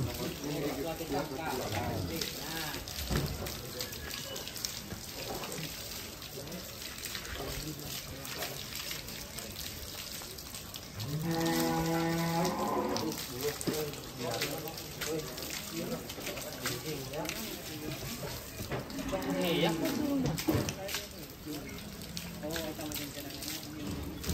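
Water is poured and splashed over a 1.1-ton Belgian Blue cow during a bath on a farm at a cattle contest, with a steady trickling and splashing running throughout beneath ongoing talk and surrounding commotion.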